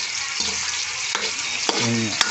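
Vegetables and aromatics, ginger among them, sauté in a pan for a Filipino ampalaya dish, giving a steady loud sizzle of frying with brief clinks and stirring scrapes.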